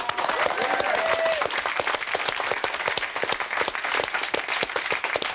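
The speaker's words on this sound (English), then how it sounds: "Make loads of noise for Ashley and Rob, everybody" A TV studio audience at The X Factor 2006 claps loudly and steadily for several seconds, dense applause with a brief whistle near the start.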